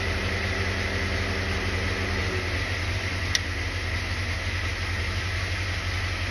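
A Corvette engine idles at a steady, low drone that holds even and unbroken throughout, with a single faint tick partway through and no talking.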